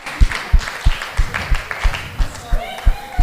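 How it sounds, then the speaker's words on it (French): A church congregation at a New Year wishes ceremony claps in a steady rhythmic beat, about three claps per second, while voices sing and call out acclamations over the clapping. "Bien-aimés, accompagnons par des acclamations"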